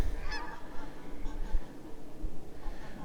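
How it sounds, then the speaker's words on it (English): Canada geese on a pond honk in the distance on a February homestead, a few nasal calls rising over soft background noise. "Caught a couple of Canada geese off in the distance"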